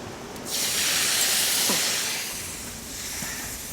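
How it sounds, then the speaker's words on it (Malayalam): Vinegar poured into hot oil for a homemade chicken pickle bursts into a loud, close hiss half a second in, then slowly fades into a softer steady sizzle. "വിനിഗർ ഒഴിക്കട്ടെ?"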